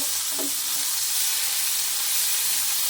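Prawns frying in a hot pan, a dense continuous sizzle with steady hiss and a faint clink near the start, close and moderately loud, with no voices.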